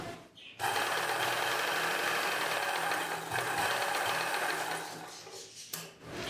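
An electric sewing machine stitches blouse fabric in a steady, loud, whirring run of fast needle strokes lasting about five seconds, starting abruptly and slowing to a stop near the end.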